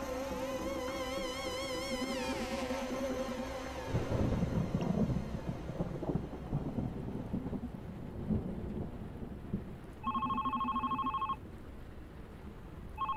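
A ringing telephone in the video game The Red Strings Club sounds in two short electronic bursts near the end, after a stretch of swelling music and rumbling, rain-like noise.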